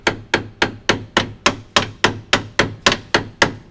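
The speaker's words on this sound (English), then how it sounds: "now we have just a smaller hammer" A small hammer strikes a metal lock plate on a BMW tie rod, about a dozen rapid, evenly spaced, sharp ringing taps in quick succession, close by.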